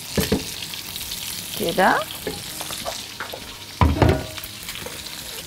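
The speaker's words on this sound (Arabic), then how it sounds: "الله، ريحه المستكه مع السمنه البلدي ولسان العصفور حلوه جدا. هحط الرز،" Rice frying in local ghee with mastic and orzo in a pot, with soft sizzling and a few louder scraping stirs; someone speaks briefly over it.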